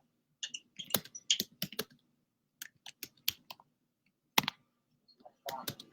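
Keys clack on a computer keyboard in quick irregular bursts separated by short pauses, close and crisp in a quiet room.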